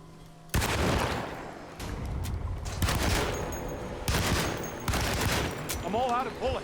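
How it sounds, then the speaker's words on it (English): Shotgun blasts in a video game, loud booming shots in quick succession within a busy stretch of gunfire and combat noise, with voices heard alongside. "we're gonna start with the shotgun"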